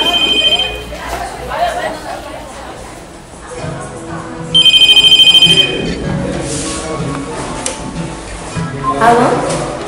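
A telephone rings in bursts, a bright electronic ringtone entering midway, over background music and speech.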